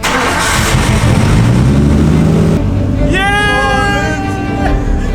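A Nissan Skyline fitted with a converted RB20 gearbox pulls away loud and close. The engine roars under load, breaks off at a gear change, then climbs again in a rising rev.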